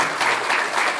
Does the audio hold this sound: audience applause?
yes